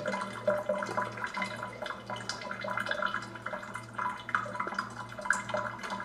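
An Aqua Ionizer Deluxe 7.0 water ionizer back flushes, giving a steady run of flowing, dripping water over a low rhythmic pump hum, close and moderately loud.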